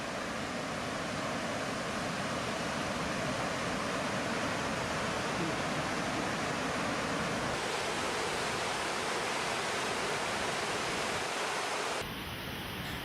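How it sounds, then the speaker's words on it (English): A powerful, continuous roar of rushing water crashing over rocks, loud and unbroken, at Cheong Waterfalls on the Cheong River in the highlands of Guyana. "The sound of rushing water cascading down the rocks is intimidating."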